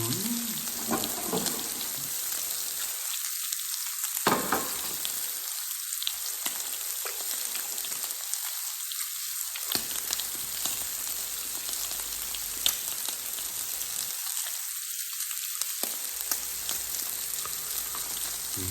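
Pork sizzles steadily on a hot Thai tabletop grill, a crackling spatter with occasional pops, interrupted by a few short, quieter stretches.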